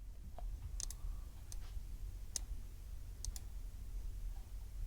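Several sharp mouse clicks sound while exporting an image in photo editing software. They are faint, close and scattered over a quiet background hum.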